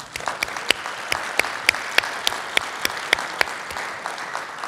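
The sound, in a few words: conference audience applause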